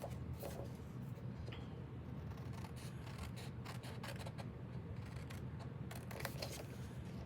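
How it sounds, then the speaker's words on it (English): Small scissors snipping tabs from a slimline greeting card, a string of quiet, close crisp cuts and paper rustles against a faint background hum with no talking. "So just cut those tabs out."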